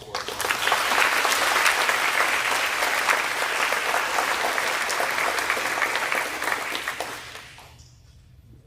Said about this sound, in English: So can we give a round of applause to Courtney?